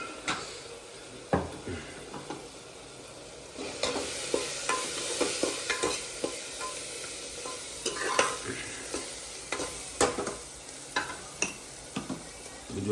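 Spices such as red chilli, coriander-cumin powder, garam masala and asafoetida being stirred in a cooking pan, giving a steady sizzle with irregular spoon scrapes and taps against the metal, close and continuous.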